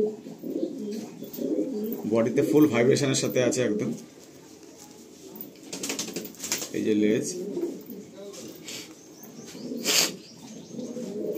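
Domestic pigeons, blue-beaked and blue-barred with clipped wings, coo in soft repeated bursts close by while someone talks over them.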